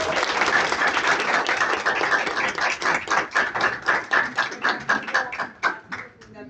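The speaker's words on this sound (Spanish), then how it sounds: "le damos un aplauso." An audience at a conference on community nutrition and health claps together, a dense burst of applause that thins into slower, separate claps and fades out.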